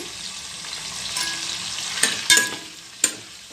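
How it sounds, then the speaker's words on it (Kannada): Masala for egg kurma roasts in a pan with salt and chili powder over a moderate flame, giving a steady soft sizzle broken by a few sharp scraping stirs near the end. "ಇದನ್ನು ಚೆನ್ನಾಗಿ ಸ್ವಲ್ಪ ರೋಸ್ಟ್ ಮಾಡ್ಕೊಳ್ಬೇಕು"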